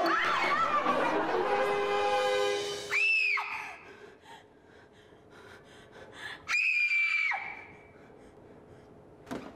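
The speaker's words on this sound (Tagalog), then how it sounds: "Bakit ka sumisigaw?" A person screams in two sharp, loud bursts, each rising and then falling in pitch, separated by quieter breathy moments, with an earlier rough vocal cry at the start.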